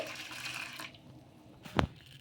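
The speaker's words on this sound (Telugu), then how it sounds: "అందులోకి ఇలా మరిగే నీళ్ళు అయితే వేసేసుకోవాలి" Boiling water pours and splashes into a bowl up close for under a second, followed by quiet and a sharp clink near the end.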